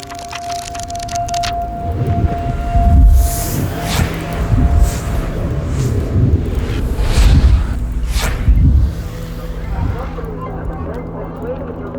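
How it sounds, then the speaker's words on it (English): The inside of a crowded train, heard heavily muffled: an indistinct murmur of many voices mixes with a low rumble and rolling swells of noise for the whole stretch. "As you can tell, there are lots of people in this train."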